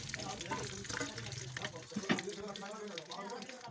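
Frozen chicken koftas sizzle in hot oil in a kadhai, a steady crackling fry with spoon stirring and scraping, while a person talks over it.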